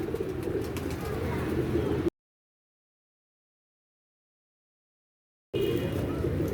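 Pigeons coo softly among other bird sounds, cut off by a stretch of total silence before the cooing resumes.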